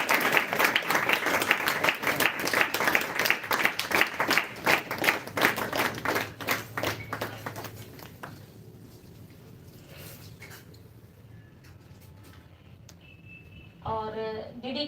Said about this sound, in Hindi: आपकी तालियों की गड़गड़ाहट स्लो न पड़े